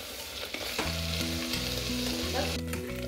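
Ginger garlic paste fries in desi ghee in a kadai with a steady, close sizzle and crackle while a spoon stirs and scrapes through it.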